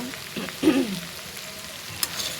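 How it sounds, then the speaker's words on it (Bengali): Bitter gourd frying in a home kitchen pan, a steady soft sizzle with a brief louder stir or clatter early on and a faint tap near the end, no voices. "করলা ভাজি রীতিমতো আমি বসায় দিয়েছি।"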